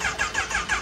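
A Kawasaki Ninja H2 turbo motorcycle cranks at a drag-racing event in Itatiba, with a close, loud starter churning in a quick rhythmic pulse, about five cycles, without the engine catching.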